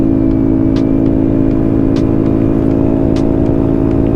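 Vespa Sprint 150 scooter engine held near its rev limit, a loud, close, steady buzzing whine with a few brief sharp clicks on top.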